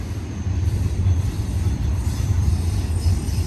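A westbound BNSF freight train rolls past at close range on the rails at Sullivan's Curve, a continuous loud low rumble of wheels and cars with a faint high squeal above, steady throughout.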